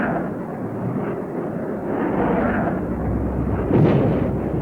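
Dense rumbling roar of massed high explosive and incendiary bombs bursting in an air raid, a continuous low heavy barrage that swells slightly toward the end.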